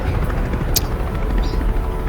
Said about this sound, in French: c'est le bruit d'un chasseur de l'UPP qui survole votre location